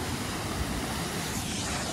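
Water pours from a pipe and falls like a small waterfall beside a village path, producing a constant broadband rush that stays steady and moderately loud throughout.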